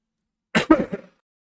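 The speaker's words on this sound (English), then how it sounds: "Still a little cough." A brief, close cough: two or three harsh bursts packed into about half a second, followed by silence.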